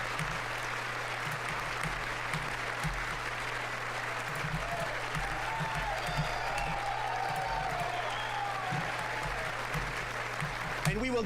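An audience applauds steadily during a State of the Union address, sustained clapping and crowd noise with a voice speaking over it.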